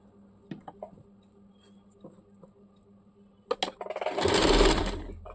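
A sewing machine stitching around a folded fabric edge on a churidar, first a few short ticking taps, then a loud continuous whirring run of stitches that slowly fades out.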